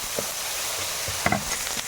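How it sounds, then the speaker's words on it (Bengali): Onions fry in a pan with a soft, steady sizzle close by, broken by a few light clicks and scrapes of stirring. "পেঁয়াজটা একটু ভাজা ভাজা হয়েছে"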